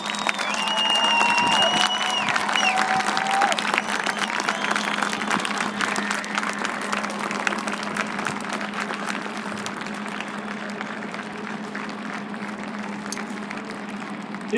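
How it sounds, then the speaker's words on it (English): An audience at an Eastern Kentucky University ceremony honoring veterans and service members applauds in a sustained, dense roar of clapping. It stays loud and even for many seconds, with a few whistles at the start, then tapers slightly near the end. "with one more round of applause."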